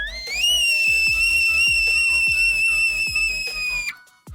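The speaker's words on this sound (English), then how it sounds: "It made a whistling sound." A steady, high-pitched whistle of liquid nitrogen forced through a tiny hole holds for about four seconds over faint rapid ticking, then cuts off abruptly.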